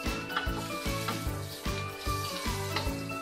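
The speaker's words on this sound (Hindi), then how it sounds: "बाकी हम तवे पे ही इसको पकाएंगे।" Chicken pizza cooking on a flat tawa griddle gives a steady close sizzle and frying crackle, with soft rhythmic scraping as it is turned, and no talking.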